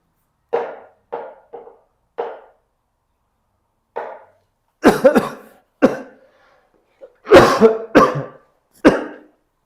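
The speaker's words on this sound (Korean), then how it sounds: "아, 기침 많이 하니까 머리가 아프네." A series of close coughs, a few light ones at first and then harsher bursts, with brief pauses between them.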